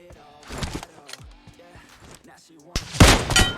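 Gunshots ring out in the mobile battle royale game PUBG Mobile, with several sharp cracks spread out and a louder burst near the end, mixed with game noise and some voices.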